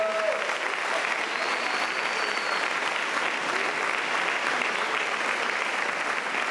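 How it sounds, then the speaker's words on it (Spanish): A church congregation claps together in sustained, even applause, a broad wash of many hands heard from across the room without a break. "Quiero que les demos un aplauso a la iglesia."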